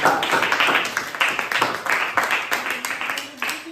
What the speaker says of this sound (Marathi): रुपालीसाठी एकदा जोरदार टाळ्या वाजवा